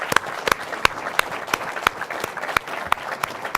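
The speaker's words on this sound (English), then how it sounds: "Clap for yourselves, please." Small audience at a film festival award show applauding itself, with a thin spread of claps, a few sharp loud ones standing out in an irregular rhythm, close by.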